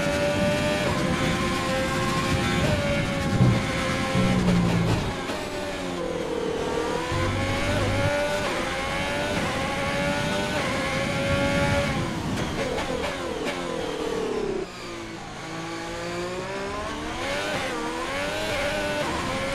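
F1 race car engine from the F1 2020 video game at Suzuka, Japan, revving hard and climbing through gears with repeated pitch sweeps and shifts, loud and continuous throughout with no talk.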